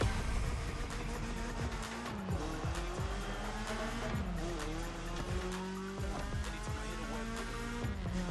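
A lightened, more powerful BMW M3 driven in The Crew Motorfest racing game in Hawaii, its engine revving loudly and steadily through repeated gear shifts with tire squeal, continuous and up close without talk.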